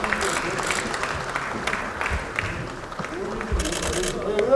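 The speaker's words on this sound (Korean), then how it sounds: "큰 박수 부탁드리겠습니다." Audience applause at a Korean political party gathering, moderate clapping that swells and fades with crowd noise and a few voices mixed in.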